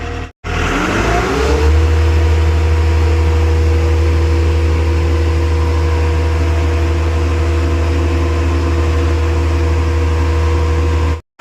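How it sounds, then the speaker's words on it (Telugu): A motorbike engine catches and settles into a steady, loud idle, a low constant rumble that holds evenly until it cuts off abruptly. "ఒక బండి అయితే స్టార్ట్ అయింది"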